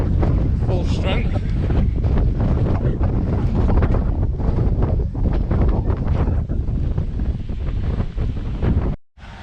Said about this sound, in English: To hear the wind is hitting again,